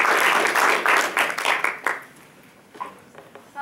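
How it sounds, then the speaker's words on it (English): A town hall audience gives a round of applause to welcome an anesthesiologist speaker, loud dense clapping that thins out and fades after about two seconds, leaving a few scattered claps. "help me welcome her by giving her a round of applause."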